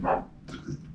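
A dog barks and yips a couple of times in quick succession, fairly close and loud, with a short whimpering tone between the barks; no speech is heard.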